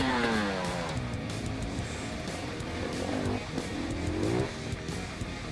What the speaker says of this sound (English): so I did some whiskey throttles to turn some heads